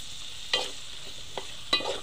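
Spoon stirring chili powder and salt into a simmering Telangana-style fish curry in a pan, with a soft sizzle under three distinct scraping knocks.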